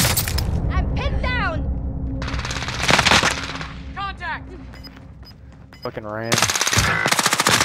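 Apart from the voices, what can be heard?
CX9 gun firing in video game Warzone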